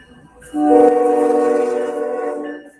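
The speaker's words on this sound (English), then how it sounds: "Train has perfect timing." A passing train sounds a loud, sustained multi-tone horn that swells in abruptly and holds for about two seconds before fading, with low rumble underneath; no speech.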